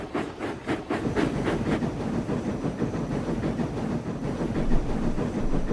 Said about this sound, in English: And off he puffed with his 2 coaches into a tunnel.